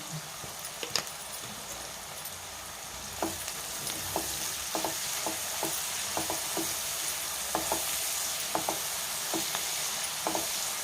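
Onions and green chillies are fried with salt in a pan for cauliflower curry, with a steady bright sizzle and sharp clicks of a spatula stirring against the pan at close range, with no talking.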